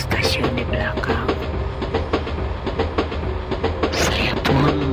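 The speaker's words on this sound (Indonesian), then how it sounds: "Akhirnya kereta berangkat dan meluncur perlahan, meninggalkan stasiun di belakang." A departing passenger train rolls along the rails with steady rumble and rhythmic clickety-clack over the joints, heard close from inside a rear carriage.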